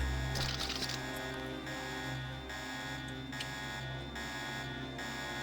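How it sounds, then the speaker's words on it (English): An alarm buzzing inside a video game, a continuous harsh electronic tone pulsing in a steady rhythm, loud and unbroken with no talk over it. "apparently that was enough to activate the alarm"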